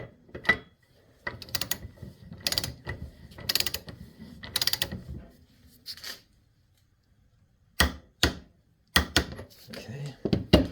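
A torque wrench tightening an injector on a Toyota 2H diesel engine, clicking and ratcheting in several short rhythmic bursts separated by pauses, close and fairly quiet.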